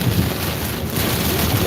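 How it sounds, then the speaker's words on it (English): Driving rain and heavy wind roar during a storm on a tornado outbreak day in Iowa, a loud, dense, unbroken wash of noise that fills the whole moment. "Right now we got driving rain, heavy wind."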